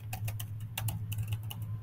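Rapid typing on a computer keyboard, clicking keystrokes in irregular bursts over a steady low hum, with no voices present.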